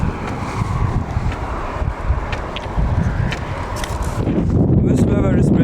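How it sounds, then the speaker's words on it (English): Gusty wind buffeting the microphone with a steady low rumble that grows stronger toward the end, and no talking. "This weather is pretty nice, still windy, but better than yesterday."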